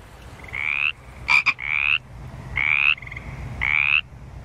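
A frog croaks four times in long, buzzing, bright calls spaced about a second apart, with a short rattling burst between the first two, loud and close.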